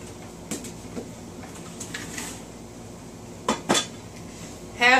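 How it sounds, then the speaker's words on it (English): Raw chicken is mixed in a bowl with soft wet squelches and a few sharp clinks of a utensil against the dish, close and fairly quiet. "Just kind of mix it up."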